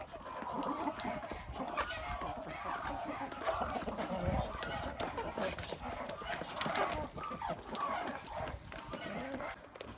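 Bielefelder hens clucking in a poultry yard, a steady murmur of soft clucks from several birds at close to middle distance, with a person talking over them.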